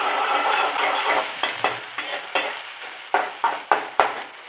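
Paneer 65 tempering with ginger and chili sizzling in a pan while being stirred, the frying hiss broken by a quick series of sharp spoon scrapes and clinks against the pan, close up.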